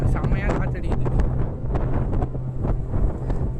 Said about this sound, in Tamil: செம்மையாக காற்று அடிக்குது.